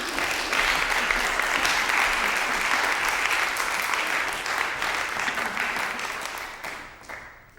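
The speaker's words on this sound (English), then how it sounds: "And you can give us some applause to cheer us on." An audience at a music performance gives steady, full applause, a dense wash of clapping that holds for several seconds and then thins out toward the end.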